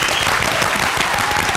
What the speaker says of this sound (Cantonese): 掌聲歡迎！